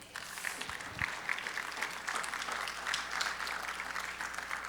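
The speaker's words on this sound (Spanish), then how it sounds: "¿Por qué no le da un aplauso al Señor?" A church congregation at a Spanish-language service claps together in sustained, even applause that holds steady throughout, with no other sound standing out.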